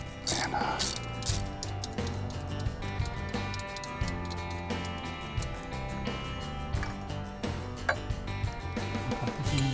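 Bolts being removed from a broken air cleaner bracket on a Deere 1025R compact tractor, rapid metallic ratchet clicking in repeated bursts with clinks, close up, with a voice talking over it.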